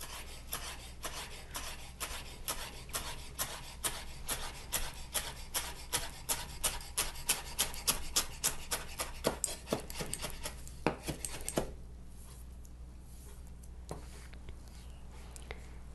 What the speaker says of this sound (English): And then I'm going to chop the dill.